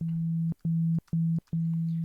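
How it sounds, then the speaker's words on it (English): A synthesizer sine wave oscillator plays a pure steady low tone, cut into four sustained pulses with short gaps between them, clean and close. "we're going to start with maybe a sine wave just to create a nice sort of subtle tone to sort of play and drone"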